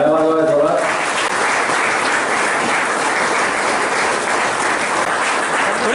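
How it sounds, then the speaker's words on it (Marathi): A large crowd at an open-air Marxist party rally in Vikramgad applauds loudly and steadily in a dense, continuous wash of clapping, after a brief voice at the start. "टाळ्या वाजवा जोरात"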